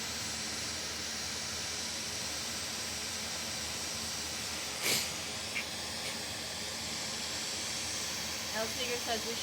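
A hot air rework iron with no nozzle blows directly over a chip during board repair. It gives a steady, close, even hiss throughout, with a faint brief rustle near the middle.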